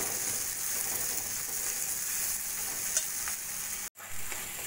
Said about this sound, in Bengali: টমেটোটাকে মশলার সাথে ভালো করে কষিয়ে নেব।